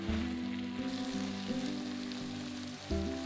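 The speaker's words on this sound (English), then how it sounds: "Add the beef to the pan and fry off for 7 to 8 minutes until sealed." Floured beef fries in a pan, a soft, even sizzle that sits low beneath sustained musical tones.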